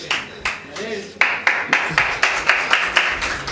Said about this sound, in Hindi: ऐसा ना तालियाँ नहीं मिलती फिर।